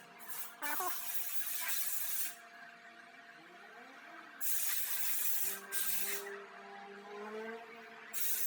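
Aerosol lubricant sprayed onto the rear drum brake parts of a 2016 Nissan Sentra SV, in several hissing bursts of a second or two each, separated by quiet gaps and faint clinks.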